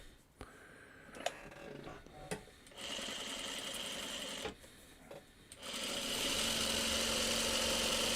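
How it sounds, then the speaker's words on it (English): A sewing machine stitches fabric in several bursts, first short clicks and stops, then longer runs of steady mechanical whirring that grow louder and continuous toward the end. "let me just sew off of that"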